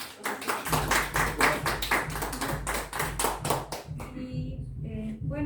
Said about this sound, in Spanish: me permito, por favor, a todos los presentes un voto de aplauso para el profesor